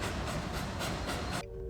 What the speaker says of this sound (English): The train yard behind the depot is a busy place in the morning.